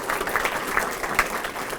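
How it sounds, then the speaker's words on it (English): Audience applause at a student awards ceremony, a brief burst of dense clapping from a crowd filling the room, moderately loud with no clear talk on top. "John, give him a round of applause."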